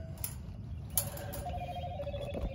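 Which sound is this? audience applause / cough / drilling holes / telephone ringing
telephone ringing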